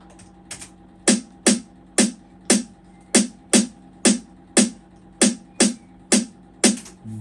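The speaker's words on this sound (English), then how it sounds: "the snare sound like this" Hip hop beat snare sample repeating on its own in a steady rhythm, a dozen or so sharp, crisp hits at a moderate level with no talk.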